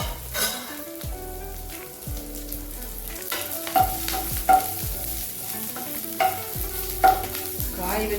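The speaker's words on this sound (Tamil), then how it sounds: "கொஞ்சமாக வறுபடுற அளவுக்கு விட்டு வறுத்துக்கலாங்க." Pirandai (adamant creeper) being stirred and dry-roasted in a pan, with a soft steady sizzle and scraping strokes repeating at an even pace, fairly quiet, with no talking.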